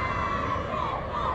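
Stadium crowd chanting for Nepal at a Nepal versus Bhutan under-19 women's international youth friendly football match, a dense sustained roar of many voices with a steady, tonal chant running through it.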